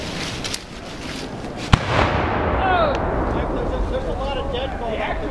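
A musket volley fired by battle reenactors at a Guilford Courthouse reenactment in March 2022 cracks once as a single sharp blast, followed by open outdoor ambience and distant crowd murmur.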